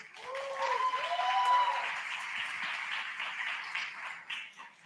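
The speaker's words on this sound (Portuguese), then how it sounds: "Uma salva de palmas." An audience at a data and artificial intelligence lecture applauds as a speaker is welcomed to the stage, a moderate, steady burst of clapping, with a few tonal sweeping sounds over the opening second or two.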